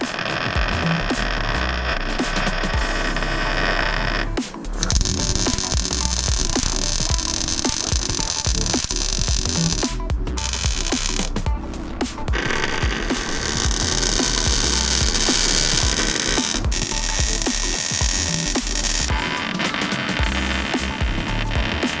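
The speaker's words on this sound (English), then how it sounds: "now I'm going to finish welding out all the stuff that was upside down and hard to access" Continuous crackling, buzzing electric welding noise on a steel roll cage for a Jeep CJ7, steady and loud for the full length, with brief pauses between weld runs.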